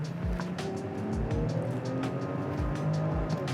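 A BMW X7 xDrive40i SUV engine runs steadily with a low droning hum, while dull thumps recur every second or so beneath it.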